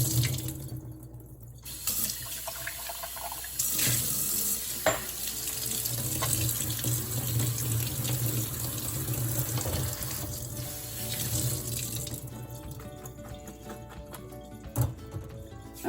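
Tap water runs steadily into a kitchen sink as soaked cashews are strained and rinsed, a continuous close splashing hiss that shifts in tone as the flow hits the nuts and strainer, with no talk.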